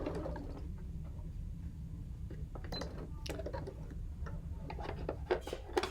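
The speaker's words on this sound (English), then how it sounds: "just sew straight across like that" A sewing machine stitching straight across a rope coaster at a 2.5 mm stitch length, a low steady motor hum with quick mechanical ticking and clicks layered on top, close and moderately quiet.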